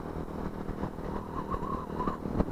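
Motorcycles on a road trip to Buriticupu rumble and idle nearby in a continuous, rough engine drone with a rising rev partway through.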